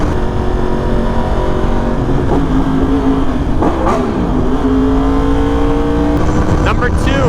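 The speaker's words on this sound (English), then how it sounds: "Can you really not love the sound of a crossplane motor?" Yamaha R1 sport motorcycle with a crossplane engine, steady loud drone with rising revs and gear changes heard from a riding position amid wind rush, with a voice talking over it.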